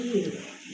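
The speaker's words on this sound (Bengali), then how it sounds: "খুবই সুন্দর টপ লেভেলের এক জোড়া কবুতর মাশাআল্লাহ" A top-grade breeding pair of fancy pigeons coo briefly at close range, a short low throaty burst under a faint background.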